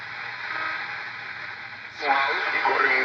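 A Realistic DX-100 shortwave radio hisses with steady static, then tunes onto a loud station whose signal jumps up sharply partway through and carries on strongly to the end.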